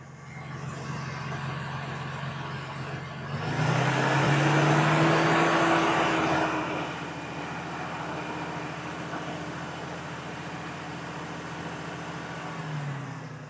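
Car engine revved to around 3,000 RPM during a battery and charging test, a steady engine hum that swells into a held higher rev for a few seconds, then settles back to idle.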